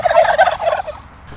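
A turkey gobbles loudly and close by in a garden, one rapid warbling burst lasting just over a second, with no other voices.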